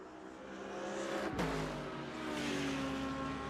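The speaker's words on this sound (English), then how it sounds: "you can hear that engine, that V10" Audi V10 race car engine at Silverstone during a multiclass series race, roaring loudly and continuously with a sharp gear-change dip midway, then pulling hard again as the car passes close by.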